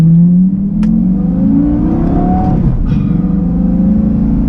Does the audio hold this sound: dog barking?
no